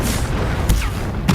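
A Stupefy spell cast in Hogwarts Legacy, two short sharp bursts about half a second apart, each a quick whooshing crack with a low thump, set against a steady rumble of game background noise.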